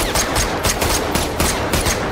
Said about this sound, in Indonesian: Namun, tepat sebelum Zurab menembak, Nick muncul dan membuat Sandro punya kesemp